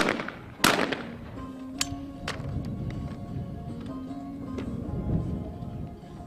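Shotguns fire at clay targets in a women's skeet shooting World Cup final in Cyprus, giving a few sharp loud bangs that echo across an open outdoor range with steady background noise.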